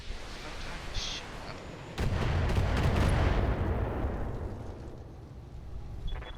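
Heavy mech weapons fire in the Battletech video game: a loud, broad blast that swells into a rumbling barrage, follows a faint earlier pop, and fades slowly into a lingering roar, with no talk.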